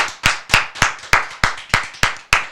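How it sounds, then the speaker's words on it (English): Audience clapping at a live show, heard as eight slow, evenly spaced loud claps with nothing else over them. "Let's clap for her."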